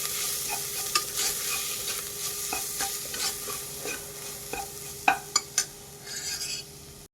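Chicken masala with turmeric, chili and coriander powder sizzles in a pan as a continuous fry while a spoon scrapes and taps the pan several times, the knocks bunching up near the end.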